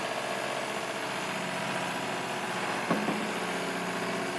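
A live steam power plant runs steadily in a small RC fishing boat during a tub test at about 45 psi, giving a continuous, even mechanical hum with one brief knock near the end and no voices.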